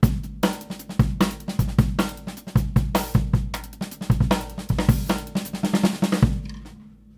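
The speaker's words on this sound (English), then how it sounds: "you're working on drum and bass stuff" A punchy, fast drum kit groove with busy snare and kick hits in a steady driving rhythm, loud and close, ending abruptly with a brief decay.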